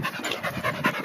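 A dog pants rapidly and close up, in quick rhythmic breaths after running to fetch a ball, loud and steady with no talking.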